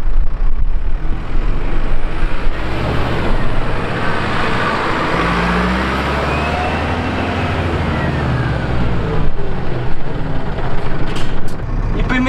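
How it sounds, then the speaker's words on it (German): A Unimog U300 truck runs with its two-stage engine brake engaged, a loud, steady, rumbling roar with a broad hiss that holds throughout at close range, with no talk. "Motorbremse, zweistufig."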